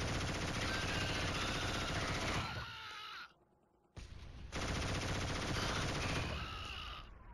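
Sustained automatic gunfire from the shooter game Killzone, a dense roaring burst lasting about three seconds, a brief pause, then another long rattling burst, loud and continuous with no voices.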